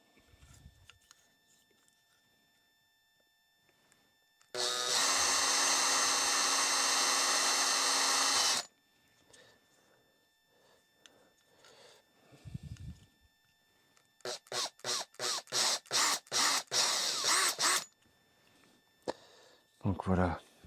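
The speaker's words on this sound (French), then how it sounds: "Je vais réaliser un trou de 5 mm, ce qui va me permettre de passer tous mes câbles assez facilement." A small drill boring a 5 mm hole in a Rivarossi UP 836 model locomotive for wiring gives one sustained high whine, then a series of short pulsed bursts, close, with faint quiet stretches between.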